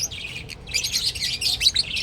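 A bird chirps and tweets in quick, bright bursts close by, the calls repeating over about two seconds with no talking.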